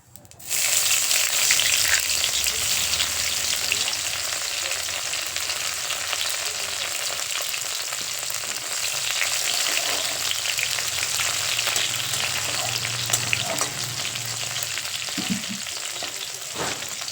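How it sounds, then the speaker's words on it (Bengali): Chopped onion frying in hot mustard oil in a pan with cumin and bay leaf, a loud dense sizzle starting abruptly and continuing steadily with occasional stirring sounds, no speech. "একটা কেটে রাখা পেঁয়াজ দিয়ে পেঁয়াজটা হালকা করে ভেজে নেবো"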